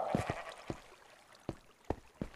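Sheep in the Minecraft video game bleat in a string of short, separate calls, clear and fairly close, spaced irregularly with quiet gaps between them.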